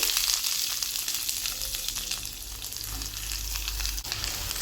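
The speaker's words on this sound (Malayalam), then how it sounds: "സവാലയും കൂടെ ചേർത്തിട്ട് നന്നായിട്ടൊന്ന് വഴറ്റിയെടുക്കാം" Sliced onions sizzle loudly in hot oil with coconut pieces in a pan for a soya chunks fry, producing a dense, steady frying hiss with light stirring and no talking.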